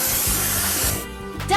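Spray paint hissing steadily over a truck in a kids' car video game, a loud continuous spray that fades out, with a bright chime rising at the end.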